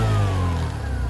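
A Bajaj Platina 110 motorcycle, a BS6 model, revs steadily while standing still, giving a close, even engine drone with no talking over it.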